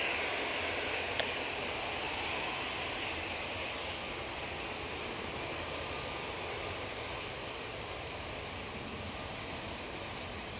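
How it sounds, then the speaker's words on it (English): Etihad Boeing 777 airliner rolling down the runway on a full-length takeoff at Manchester Airport, a steady loud broadband jet roar that stays constant throughout, with one brief sharp click early on. "Etihad 777 is going down Tango, so that's going to take full length"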